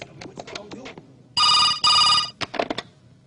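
A mobile phone rings with two bright, loud electronic ringtone bursts in quick succession, surrounded by short bits of nearby talk before and after.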